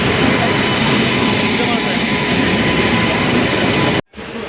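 A train pulls into platform 10 at a station on the line to Lingampalli, its steady loud rumble of wheels and carriages filling the air alone before cutting off abruptly near the end.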